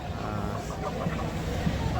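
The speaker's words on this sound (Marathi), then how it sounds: "नुसते गावठी कोंबडे आहेत" Country chickens cluck in short bursts amid busy background chatter and ambient noise at a fish market in Alibaug, fairly close.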